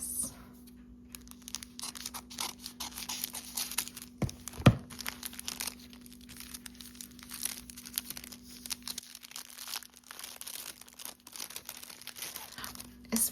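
A wrapped piece of fabric ribbon is cut open at a table, giving soft crinkling, rustling and a few sharp snips and tears, close but quiet with pauses between.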